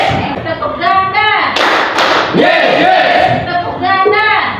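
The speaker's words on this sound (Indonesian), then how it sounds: "Tepuk ganda." Pupils in a classroom clap together twice in close succession, two loud crisp bursts in the middle of the clip, with voices chattering and calling before and after.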